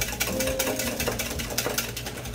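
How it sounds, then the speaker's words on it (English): Chocolate lava cake batter is whisked in a bowl, giving a close, rapid rhythmic clatter with no talk. "let's whisk this up,"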